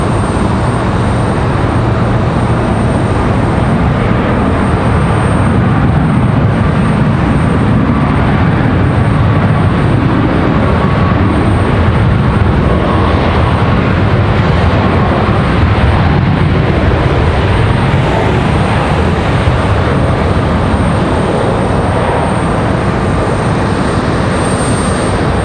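A JetBlue Airbus A220 jet taking off from Raleigh-Durham airport, its loud sustained engine roar close and continuous throughout, broad and rumbling with no voices.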